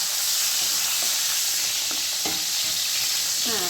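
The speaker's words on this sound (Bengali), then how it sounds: "টমেটোটাকে একটুখানি একটু ভাজা ভাজা করে নিই।" Tomato frying in hot oil in a pan makes a dense, continuous close-up sizzle with bursts of spattering and a few light stirring scrapes.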